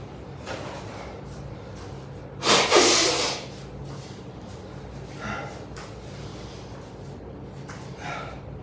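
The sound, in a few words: person blowing their nose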